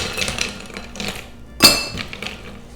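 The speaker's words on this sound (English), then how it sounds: "And then we'll put some yellow ice cubes" Ice cubes dropped into a glass of water in a kitchen make a few clinks and knocks, with one sharp, bright clink standing out near the middle, with no talking.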